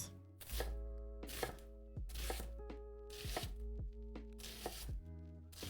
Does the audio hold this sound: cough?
no